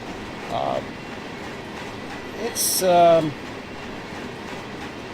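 Trains in the Run8 train simulator rumble at low level in the background, with a brief rise in rolling rail noise and a short tonal squeal or horn. Someone speaks briefly over it.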